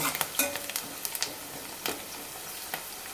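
Onions fry in a pan for a dhaba-style okra curry, with a soft steady sizzle broken by light clinks and scrapes of a spoon stirring against the pan, close and fairly quiet, with no talking.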